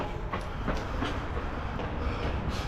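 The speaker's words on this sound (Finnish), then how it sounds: "Päädyin ilmeisesti jonnekin juna-asemalle." A train rumbles steadily nearby at a railway station in Istanbul, with faint rhythmic clacking over a dense, continuous low roar.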